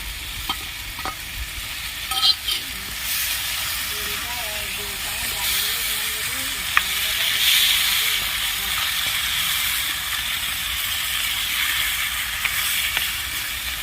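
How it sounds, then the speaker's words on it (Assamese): Fish heads that were fried earlier and eggplant sizzle steadily in a hot pan, a broad continuous hiss with occasional clatter from stirring, close and fairly loud throughout. "এতিয়া মই ইয়াত ভাজি থোৱা মাছৰ মাথা কিপিচ দি দিম।"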